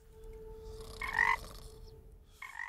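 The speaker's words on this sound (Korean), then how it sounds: "개구리의 울음소리에 잠에서 깨어나는" Frog croaks sound close by in a quiet night setting in a Disney animated film, a rasping call in the middle and another starting at the end, over a low hum.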